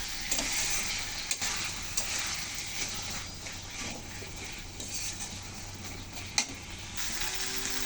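Greens and potato curry simmering in a pan with a steady sizzle, stirred now and then with a few sharp scrapes and clinks against the pan, no one talking.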